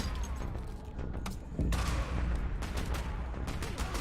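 Gunfire and grenade blasts from the early-access video game 2084, a dense, steady barrage of rapid shots with a heavier boom near the middle, loud and continuous with no talk.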